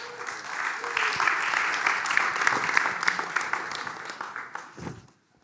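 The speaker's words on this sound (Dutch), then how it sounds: "Dames en heren, mag ik een hartelijk applaus voor Atta de Tolk." An indoor audience at a closing meeting gives warm applause for an interpreter, a dense, steady clapping that holds for several seconds and then tapers off and stops abruptly.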